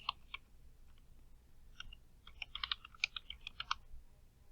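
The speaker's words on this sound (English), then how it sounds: "press the tab key 3 times, and now type fundraising goals" Keystrokes on a computer keyboard during word-processing: a few isolated presses, then a quicker run of typing clicks, close and crisp against a quiet background with no voice.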